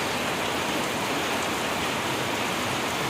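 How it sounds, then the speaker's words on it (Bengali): Heavy rain pours down in a dense, unbroken hiss, loud and steady throughout with no voices over it. "কি পরিমাণে বৃষ্টি নেমে গেল"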